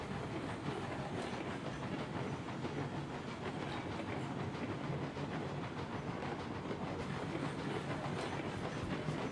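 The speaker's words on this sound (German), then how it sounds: "Und die Lok ist über der Weiche" Locomotive rolling over a track switch in the train game Railroads Online: a steady, loud rumbling roll with rhythmic clickety-clack of wheels on rail joints and faint hiss, continuous throughout with no talking.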